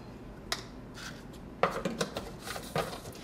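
Protein powder scooped into brownie mix in a home kitchen: a few sharp clinks and scrapes of a scoop against a container, irregular and close, with soft rustling in between.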